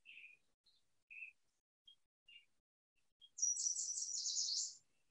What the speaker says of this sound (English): I'm putting in a little bit of the song of this bird right here, the yellow warbler